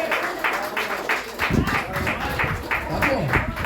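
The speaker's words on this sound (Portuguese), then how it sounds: "Pode dar uma salva de palmas para Jesus." Church congregation clapping in rhythm for Jesus during a Portuguese-language worship service, the steady beat running through the whole stretch with voices over it.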